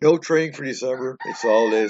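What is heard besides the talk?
rooster crowing in the background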